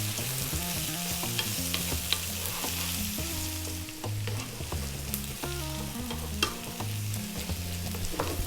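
Potatoes frying on high heat for a potato mushroom curry, a constant close sizzle with repeated scraping stirs of a utensil against the pan, no voices.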